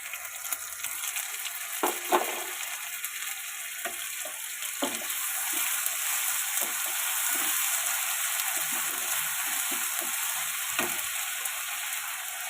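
Onion with ginger-garlic paste fries in a pan, giving a steady broadband sizzle throughout with scattered stirring clicks and scrapes. The sizzle grows a little fuller partway through. No voices.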